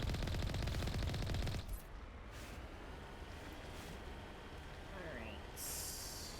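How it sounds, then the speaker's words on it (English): Gunfire in Mass Effect, fired by an enemy that shoots through a wall: a dense burst of automatic fire opens loud and close, then drops away to a low, busy rumble of combat with scattered shots. "That thing's shooting through the wall."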